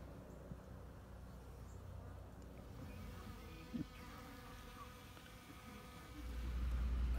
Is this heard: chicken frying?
no